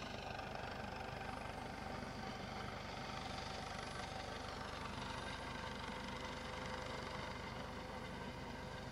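A rescue helicopter hovers over the water while its crew lowers a lifting strap to a diver, giving a steady, unbroken rotor-and-engine drone that stays even and fairly distant throughout, with no voices.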